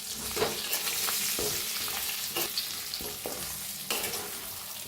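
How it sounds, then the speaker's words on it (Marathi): Stuffed eggplant sizzles steadily in a pan with red chili powder and salt while a spoon stirs it, scraping and clinking in several distinct strokes over the constant frying hiss, with no talking. "1 मिनिट हलवून घेऊया।"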